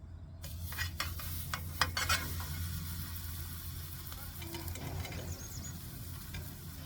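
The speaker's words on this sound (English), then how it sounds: "Let it sizzle." Brat burgers sizzling steadily in a pan on a camp stove, close up, with a few clinks and scrapes of a utensil near the start and no talking.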